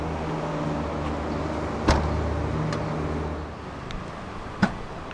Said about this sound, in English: The car will detect it, and the rear hatch will rise up as well.